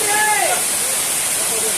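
Water pours down Ogi Waterfall in a steady, loud, hissing rush, and a voice rises briefly over it near the start.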